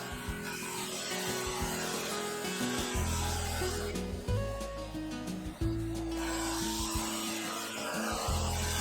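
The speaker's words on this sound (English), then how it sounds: "the segmented rings are ready for sanding" Segmented rings of spalted beech and coloured epoxy resin are rubbed flat on an abrasive surface, giving a close, continuous rasping scrape in repeated back-and-forth passes with short pauses between strokes.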